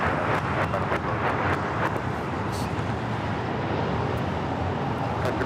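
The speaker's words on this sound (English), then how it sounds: "That is Latam Airlines 603 taking off to Santiago, Chile on the 787-8 Dreamliner" A LATAM Airlines Boeing 787-8 Dreamliner taking off from Los Angeles International Airport, heard as a sustained distant roar of jet engines mixed with wind rumble, steady and even for the whole stretch.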